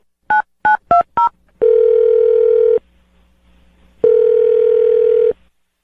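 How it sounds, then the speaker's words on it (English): A telephone keypad beeps four quick DTMF tones while a number is dialed, followed by two long, loud ringback or dial tones separated by a pause, all close and clear with no talking. "I'm gonna dial her phone number right now"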